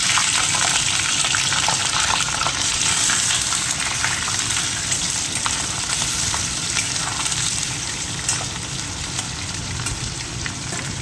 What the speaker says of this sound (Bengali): কড়াইতে তেল গরম হয়ে গেছে ডাইরেক্ট চিকেনটা ছেড়ে দেবো